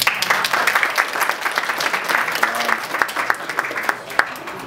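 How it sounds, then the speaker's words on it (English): A crowd of wedding guests claps and applauds steadily for several seconds, a dense patter of hands that thins out toward the end. "A round of applause for both of them."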